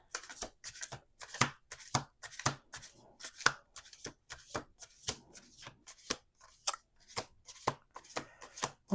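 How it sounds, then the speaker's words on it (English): Tarot cards riffled and shuffled by hand in a quick, steady run of crisp flapping bursts, close and clear with no talking. "Last shuffle."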